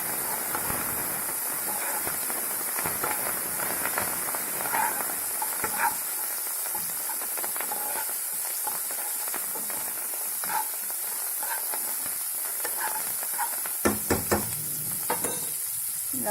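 Lemon rice with coriander leaves frying in a hot pan and being stirred, with steady sizzling and repeated scraping strokes throughout, a few louder clanks near the end, no voices.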